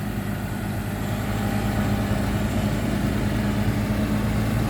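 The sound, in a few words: tractor engine pushing mud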